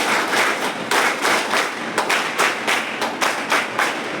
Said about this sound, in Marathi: तुमच्या मुख्याध्यापक सरांसाठी टाळ्या वाजवायच्या आहेत